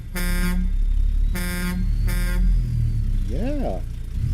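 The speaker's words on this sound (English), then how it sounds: "Yeah, that was a horn." A truck horn in the video game American Truck Simulator honks three times in loud, evenly spaced blasts, followed by a brief warbling electronic tone over a low engine rumble.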